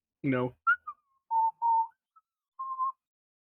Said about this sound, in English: I start whistling a good jauntty tune as I just head straight there